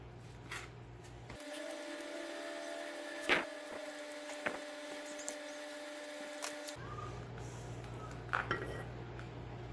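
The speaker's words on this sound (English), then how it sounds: "what you're going to want to do is take out these 2 bolts" Two bolts come out of a 2-stroke oil-injected scooter carburetor, heard as a few faint, scattered metallic clinks and taps over a steady low hum, close by and fairly quiet.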